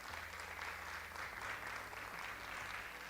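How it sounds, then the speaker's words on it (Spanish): An audience claps to welcome a speaker at a talk on impact investing, a continuous faint patter over a low steady hum. "démosle la bienvenida con un fuerte aplauso"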